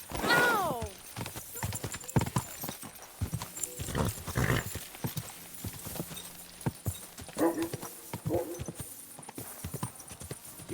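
Horse hooves clip-clop steadily in Kingdom Come Deliverance 2, a repeated close rhythm of hoof strikes with a brief whinny near the start and game sounds and faint voices in the background.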